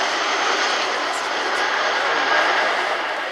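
A Chinook helicopter with contra-rotating rotor blades flies low over an airshow, producing a loud, steady roar of engine and rotor noise that stays constant throughout, with no break or change in level.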